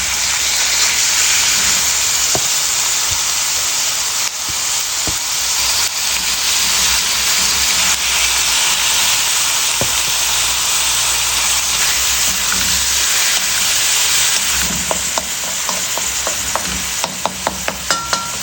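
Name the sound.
beef sizzling while being sautéed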